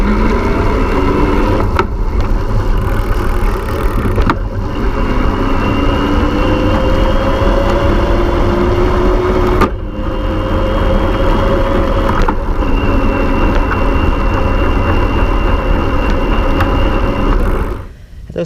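BULLS Lacuba EVO E45S e-bike with its motor running steadily under pedaling, a continuous low drone with slight rises and dips in pitch over road noise, close and loud throughout before cutting off at the end.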